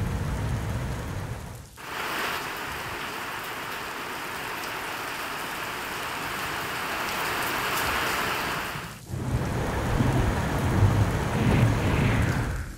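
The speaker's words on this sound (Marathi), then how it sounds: "नाशिकच्या सप्तशृंगी गडावर मेघगर्जनेसह जोरदार पाऊस झालाय" Heavy monsoon rain pours steadily at Saptashrungi fort near Nashik, a dense loud roar with rumbling thunder, briefly dipping twice before returning at full strength.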